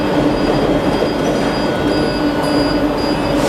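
Underground metro train riding through a tunnel in Spain, a loud steady rumble of wheels and cabin noise with faint squeals, heard from inside the carriage with no talk.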